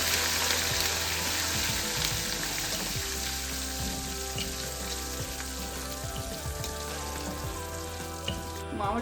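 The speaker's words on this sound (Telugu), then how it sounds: "ఫైనల్గా కరివేపాకు వేసి స్టవ్ ఆఫ్ చేసేద్దాం" Curry leaves crackle and sizzle in hot tempering oil for an Andhra-style raw mango pachadi, a busy close-up spatter of pops over a steady frying hiss that carries on without pause.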